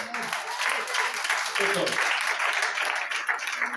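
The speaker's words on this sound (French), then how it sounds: "Est-ce qu'on peut acclamer pour toi?" Church audience applauding for teacher Yannick, a dense steady wash of clapping that fills the whole stretch with a brief dip midway, with voices audible beneath it.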